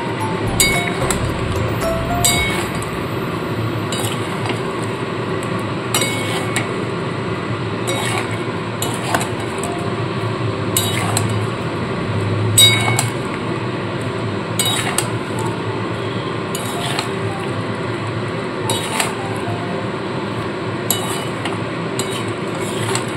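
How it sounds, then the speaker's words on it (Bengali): Taro (gathi kochu) sautéed with spices in a pan, a steady sizzling hiss under repeated metallic spatula scrapes and clinks against the pan, close and continuous with no talk. "দিয়ে মশলার সাথে ভালো করে কষিয়ে নিতে হবে"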